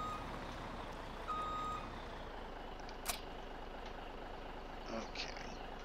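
A Mack truck with a hitch hauling trailers in Farming Simulator 17, heard as a steady low engine drone with a brief reversing beep and a couple of faint clanks and air hisses.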